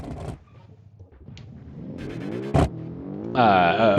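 In BeamNG, an all-wheel-drive front-engined budget supercar revs up in rising, climbing engine pulls, with a sudden loud burst midway and a higher, sustained whine at the end.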